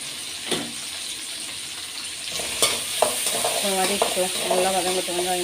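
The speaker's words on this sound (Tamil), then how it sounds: "வெந்தயம், கொஞ்சம் சீரகம், பூண்டு, வெங்காயம் போட்டுக்கலாம்." Fenugreek, cumin, garlic and onion being stirred into hot oil for a spicy brinjal kara kulambu, with a loud steady sizzle, scraping stirs and clatters that grow busier toward the end.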